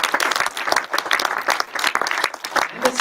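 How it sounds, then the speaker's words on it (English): An indoor audience at a tech event on Azure and AI in Austria applauds its sponsors, with dense, steady clapping from many hands filling the room. "So big round of applause for our sponsors,"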